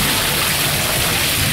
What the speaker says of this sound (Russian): Вода плещется сильно.